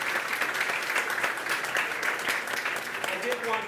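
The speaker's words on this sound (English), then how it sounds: "round of applause for" An audience gives a round of applause at a culinary school event, steady dense clapping filling the room for the whole stretch at a close, even level.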